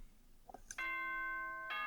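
School announcement chime in the video game Danganronpa: a couple of soft lead-in notes, then a clear sustained bell-like tone ringing out and a second tone beginning at the end, alone and fairly close.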